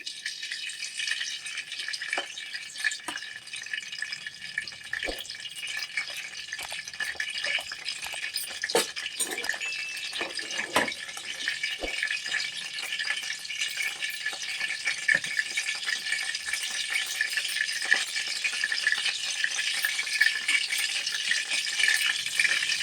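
Vegetables for an Andhra-style veg biryani fry in ghee and oil over medium heat, giving a steady close sizzle across the whole stretch with scattered clicks and light stirring knocks.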